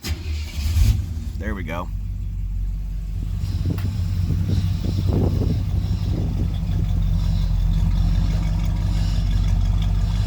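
A 1967 Buick Skylark with a balky carburetor and a generic 2¼-inch exhaust cranks briefly, then catches and settles into a loud, steady idle rumble, with someone speaking over it at the start.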